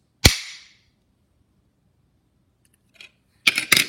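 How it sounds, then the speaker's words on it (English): A battery connector snaps onto a spring contact with one sharp click, then comes a faint tick and a pair of quick clicks a few seconds later. The sounds are close and crisp, with silence between them. "make sure you push it in so it makes a snap and it sounds like this"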